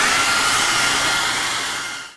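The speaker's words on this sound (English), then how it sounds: "One thing I do like to do is use a little hair dryer." Small hair dryer blowing over watercolor paper, a loud close steady whoosh that tapers off as it switches off at the end.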